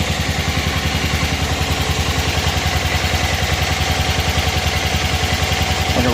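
A barn-find 1988 Club Car golf cart engine idles steadily with a quick, even putter and light mechanical clatter, close and fairly loud, running smooth without pause.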